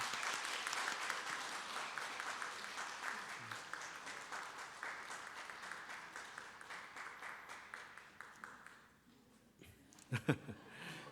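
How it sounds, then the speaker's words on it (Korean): An audience at a Korean Presbyterian church's award ceremony breaks into dense applause that gradually thins and fades out, with a few final scattered claps and knocks after it dies down. "박수 부탁합니다."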